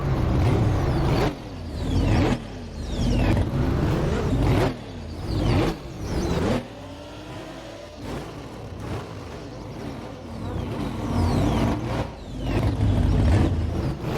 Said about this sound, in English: this is Dom idling the car in the fourth movie